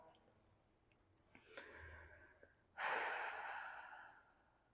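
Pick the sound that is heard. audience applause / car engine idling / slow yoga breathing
slow yoga breathing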